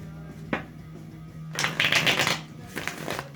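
A tarot deck is shuffled by hand: a single soft tap, then a longer loud riffle of cards, followed by another short burst of shuffling near the end.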